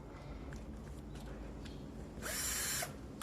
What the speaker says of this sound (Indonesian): Oke, ini drill.